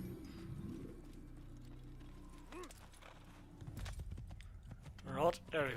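Rhythmic clip-clop of horse hooves in the video game Assassin's Creed, mid-distance, under steady background music and a talking voice, with a few bird calls near the end.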